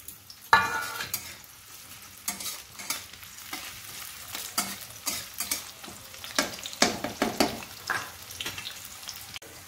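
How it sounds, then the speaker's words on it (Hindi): A small onion chopped into little pieces fries in hot oil, giving a soft steady sizzle broken by repeated clattering stirs and scrapes of a spoon against the pan, with no talking. "तेल में दे देंगे प्याज। देखिए तेल गर्म हो गया है मेरा।"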